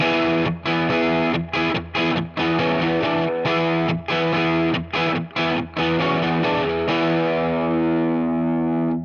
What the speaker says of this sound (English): they came up with these epic rock riffs that sound like this.